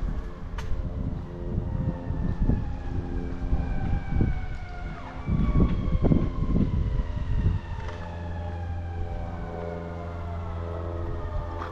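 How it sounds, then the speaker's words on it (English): Ambulance siren on a city street heard from a walk, its wailing tone sweeping up and down as it draws nearer, mixed with low traffic rumble and engine noise. "Uh-oh, here comes an ambulance."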